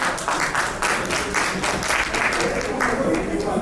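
Guests at a nursing school alumni anniversary gala in North America clap steadily before a keynote introduction, moderately loud, with voices talking over the applause.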